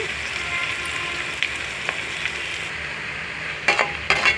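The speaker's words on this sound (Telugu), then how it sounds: "ఇదిగోండి ఇలాగా వేయించుకోవాలి ఉల్లిపాయలు" Onions and green chillies frying in a pan, a steady close sizzle with a few scraping stirs and light clinks of a spatula near the end.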